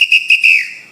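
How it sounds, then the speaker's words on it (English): A shrill whistle gives three quick clipped blasts and then one longer tone that bends downward, loud and close, the signal that opens a Batucada parade drumming rhythm. "starts out with the whistle"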